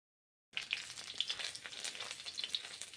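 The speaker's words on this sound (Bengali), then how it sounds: "তারপর সামান্য ব্রোকলি দিচ্ছি, ভেজে নিচ্ছি" Broccoli frying in hot mustard oil for a vegetarian broccoli and moong dal dish, a steady close sizzle with soft crackles after a silent start, no voices.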